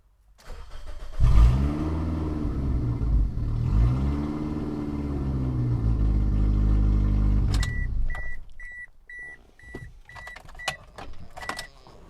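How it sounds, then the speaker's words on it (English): A loud Toyota car engine running without its exhaust roars and revs hard, then settles while a series of short electronic beeps and clicks sound near the end. "it's missing its exhaust, so it's going to be loud"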